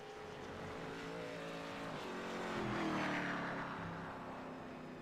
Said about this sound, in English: Sounds like his engine's still running, so the leader is not out of fuel yet.